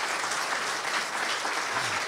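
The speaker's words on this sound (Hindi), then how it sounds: "इसके लिए तो खास तालियां बजनी चाहिए" A crowd at a Brahma Kumaris spiritual discourse applauds in a steady, dense wash of clapping that stays even and fairly loud for the whole stretch, with no voices over it.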